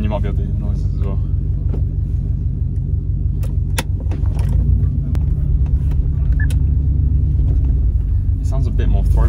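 A Subaru WRX STi with a stage 1 remap rumbles at a low, steady idle, close and loud, its deep throaty drone swelling slightly partway through.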